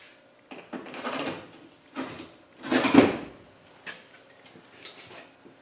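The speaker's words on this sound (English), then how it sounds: "And then we're going to put the door top back on." Door top of a Land Rover Defender 90 being fitted back onto the door frame, a series of hollow bumps and knocks with one louder thud midway, close by and without talk.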